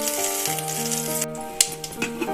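Ingredients sizzle and fry steadily in hot ghee for a fenugreek-leaf dal tempering, a close, continuous crackle with a few sharper pops and stirring clinks and no talk.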